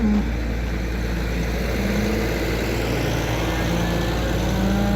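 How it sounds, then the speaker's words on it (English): A farm tractor idles steadily nearby while cattle are about to be fed, a continuous low engine drone with no speech. "I think I'll just leave the tractor run."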